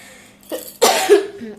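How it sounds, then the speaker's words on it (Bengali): A woman gives two short coughs close to the microphone, a small one followed by a louder, harsher burst, in an otherwise quiet room. "আমার মাঝে মাঝে কাশি হচ্ছে না এমন বিরক্ত লাগে"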